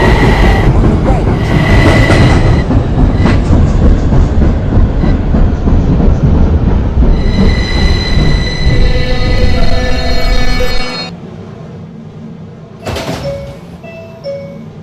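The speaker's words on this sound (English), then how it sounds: "This is a Richmond Island bound R train via the N line." An R subway train rolls loudly along the N line, rumbling and squealing close by, then slows and quiets toward the end, where a short clatter follows.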